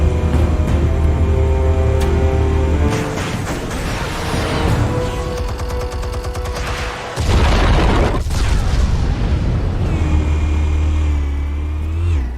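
Explosives detonating in Batman: The Telltale Series, a loud booming burst over a steady low game drone, with heavy rumbling blasts through the middle and a sharp crack near the eighth second.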